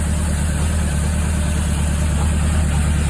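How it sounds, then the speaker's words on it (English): A Honda CB750A motorcycle engine with a repaired exhaust idles steadily, a continuous low, even rumble at close range with no voices. "And the engine is really quiet, which is great."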